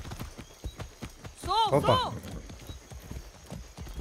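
Horse hooves clip-clop in a quick burst while riding in Far Cry 6, mixed with a short whinny-like call, all under someone talking in Greek.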